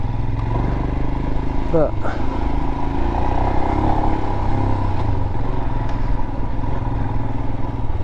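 A Royal Enfield Himalayan motorcycle is being ridden, its engine droning steadily and close throughout while a rider talks over it.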